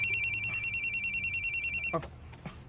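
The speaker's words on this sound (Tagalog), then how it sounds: "Si Bimbo mo ning nanawag" A phone ringtone for an incoming call plays loud and close as a rapid repeating electronic trill, then cuts off abruptly, followed by a few faint handling noises.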